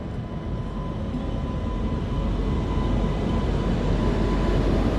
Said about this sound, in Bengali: অনেকক্ষণ অপেক্ষা করার পর আমাদের ট্রেন চলে এলো